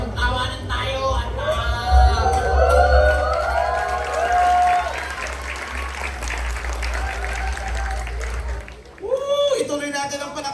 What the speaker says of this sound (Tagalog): Ituloy natin ang palakpak.